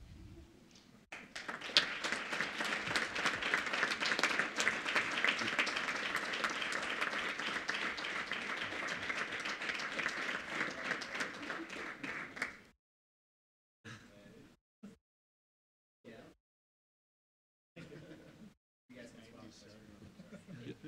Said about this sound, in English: I would like for us to recognize our dedicated Board of Education by giving them a round of applause